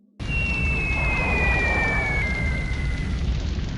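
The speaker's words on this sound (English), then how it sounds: "The B-17s loose their bombs." B-17 bombers releasing bombs, heard as a sudden onset of a loud, continuous rumbling roar of explosions with a descending whistle of falling bombs over it, sustained to the end.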